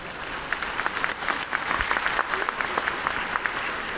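An audience in the Bapu Sabhagar hall in Patna claps through a Nalanda Open University convocation ceremony, producing dense, sustained applause with sharper individual claps standing out, moderately loud and without speech.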